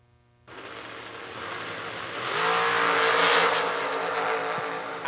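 A dragster and a Corvette at a drag race, loud engines rising in a steady roar after a brief quiet start, building to a peak midway with a faint tire squeal toward the end.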